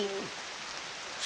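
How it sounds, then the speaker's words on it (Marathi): Rain falls outdoors in a grassy hillside spot as a faint, steady hiss of patter, brief and distant with no voices. "पाऊस आला आणि मोबाईल भिजन माझा."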